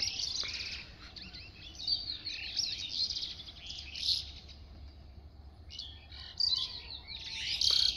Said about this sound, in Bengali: পাখিগুলো কিচির মিচির করে ডাকছে।